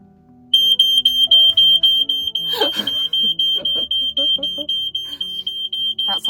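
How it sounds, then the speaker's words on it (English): A smoke alarm in a cozy home craft studio beeps in a rapid, steady, piercing pulse that runs loud and unbroken, while a person talks and other household sounds mix in beneath it. "That's our fire alarm going off."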